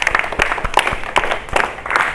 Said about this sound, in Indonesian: Kasih aplaus untuk Mbak Mary ya